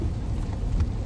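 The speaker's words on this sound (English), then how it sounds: "It's still pouring down rain." Heavy rain pouring down in a steady, dense hiss with a low rumbling undertone and no break.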